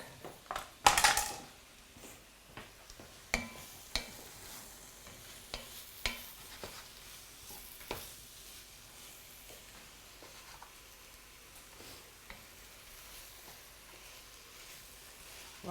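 Mushrooms cooking down in a pan give a low, steady sizzle, broken by sharp clinks and scrapes of a utensil against the pan and a few quick knocks, with occasional faint voices in the background.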